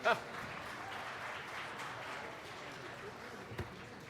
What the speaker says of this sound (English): If you agree with me, you could clap.